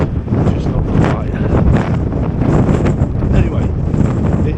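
Strong wind buffets the microphone on the open deck of a ferry, a loud continuous rumbling roar with gusty swells and no clear voice.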